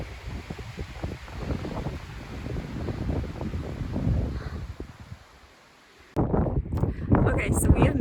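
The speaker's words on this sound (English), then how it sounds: "I don't know if you're gonna be able to hear me because it's so windy" Strong wind buffets the microphone on the summit of White Mountain during a solo hike, a loud rumbling roar that briefly drops away before gusting back hard.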